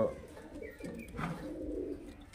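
Giribaz and Madrasi pigeons for sale coo softly in low, drawn-out murmurs, fairly faint and close, with no voices over them.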